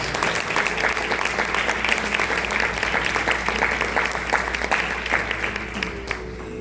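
A church congregation claps together in steady, dense applause, loud and sustained, tapering slightly near the end.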